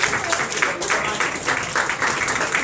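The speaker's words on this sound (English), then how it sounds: "give a round of applause" Audience at a networking group lecture demo clapping in a steady, continuous round of applause, fairly close and filling the whole moment.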